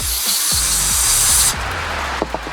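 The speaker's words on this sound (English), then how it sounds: "I'm just gonna go ahead and hold it gently and spray it off." Cleaner sprays in a loud, continuous hiss onto a small dirt bike carburetor needle seat for about a second and a half, then cuts off, leaving quiet handling noises and a couple of light clicks.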